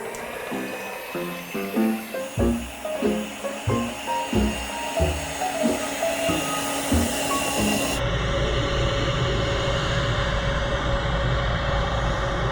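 An electric mixer beats egg whites with cream of tartar into a stiff meringue, starting with rhythmic knocking against the bowl and then rising into a loud, steady high-speed whir that runs to the end.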